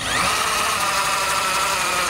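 A power drill drives the crank of a Trailer Valet JXS trailer jack with footplate, raising it in a loud, steady whine that holds unbroken and close by throughout, with no talking.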